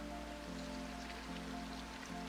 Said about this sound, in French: C'est bien la petite pluie là, ça rajoute vraiment un petit côté de chill.